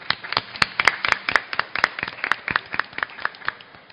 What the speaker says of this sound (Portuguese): Palmas para elas, gente.